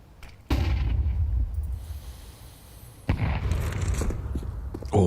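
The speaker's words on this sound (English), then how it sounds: "Oh, big nade onto Sensu." Grenade blasts ring out during a professional Counter-Strike match: two sharp, booming explosions about three seconds apart, each followed by rumbling decay and scattered gunfire.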